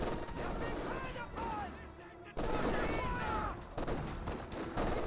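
Dense, rapid MG42 machine-gun bursts mixed with mortar blasts in the WWII strategy game Company of Heroes 2, loud and continuous under a commentator's voice.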